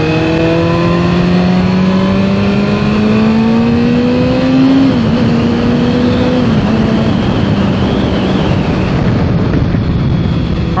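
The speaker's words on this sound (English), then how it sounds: "Other than the exhaust being way too quiet, despite how good it actually sounds" A 2015 Kawasaki ZX-6R 30th Anniversary ABS sport motorcycle revs hard, its engine note climbing steadily in pitch, dipping briefly, then rising again, loud and close with no talking.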